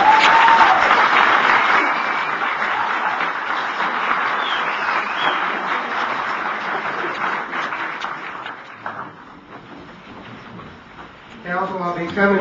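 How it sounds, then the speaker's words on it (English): A crowd at a tribal council meeting applauds loudly and steadily for several seconds, then the clapping thins out and fades near the end. "Let's give them a round of applause."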